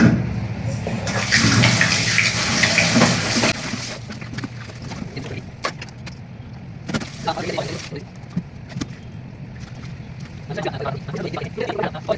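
Grape leaves being washed under running tap water, a loud steady stream for several seconds that gives way to softer splashing and handling sounds.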